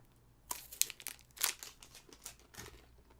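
Chocolate bar wrapper crinkles close up while someone eats, a few sharp crackly bursts followed by softer rustling, alone with no talk.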